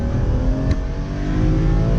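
A BMW M3 with a naturally aspirated six-cylinder engine revs hard, a loud, close, steady high-pitched engine howl with strong harmonics, sustained for about two seconds with no speech.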